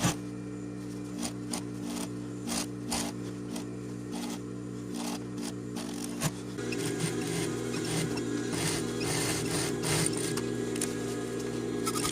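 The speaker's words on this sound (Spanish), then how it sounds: "Voy a coser empezando siempre del lado derecho por arriba y el lado izquierdo por abajo" Overlock sewing machine stitching jeans side seams, a steady close mechanical hum with rapid ticking that grows louder and busier partway through, running continuously without talk.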